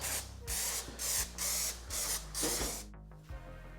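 Short bursts of aerosol spray paint lay a quick, thin coat on a Magirus Deutz 170D11 truck part: about five steady hissing blasts with brief gaps, close and loud, then a soft clatter at the end.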